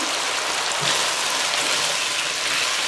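Chicken and onion fry in a pan for Uzbek mastava, giving a continuous close rain-like sizzle with fine crackling and no talk.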